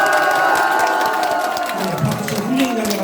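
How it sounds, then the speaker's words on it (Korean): Applause and cheering break out at a press conference held by a party leader running for Gangseo district office, a loud crowd of clapping mixed with shouts and whoops, with voices rising through the noise. "한참 박수."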